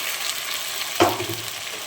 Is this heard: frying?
yes